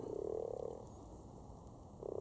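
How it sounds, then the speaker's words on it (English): Frogs croak in a pond during mating season, a dense pulsing chorus that fades partway through and swells again at the end, close and steady. "There's frogs everywhere still."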